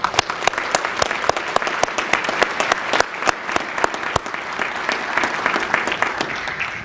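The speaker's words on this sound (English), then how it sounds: "if I could just have one more round of applause for Spicer Bell." An audience at a community foundation's annual meeting gives a sustained round of applause, dense rapid clapping from many hands, steady and close for several seconds with no speech.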